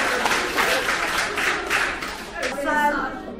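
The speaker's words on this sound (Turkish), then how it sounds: "Alkışlayın kendinizi." Young children at a year-end school event clap for themselves, a busy burst of small hands applauding that thins out near the end as an adult voice begins speaking.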